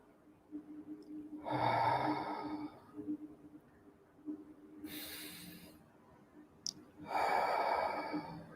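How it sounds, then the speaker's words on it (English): Slow, deep breaths in and out during a guided relaxation exercise, three or four long airy breaths separated by quiet pauses, close and fairly soft with no talking. "Breathe in, breathe out."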